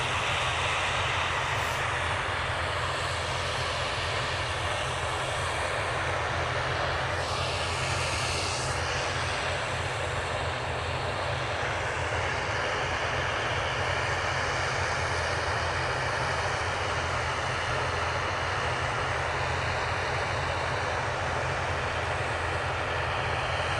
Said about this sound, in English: Just keeping an eye on this ATR that's right in front of me. They're edging forward.